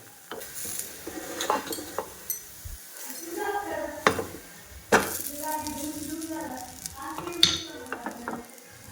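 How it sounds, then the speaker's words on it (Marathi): A potato dish for fasting roasts in a pan. A soft sizzle runs under sharp clinks and scrapes from a spatula as the pieces are turned. "आता दुसऱ्या साईडनी पण आपल्याला शेकून घ्यायचे आहे"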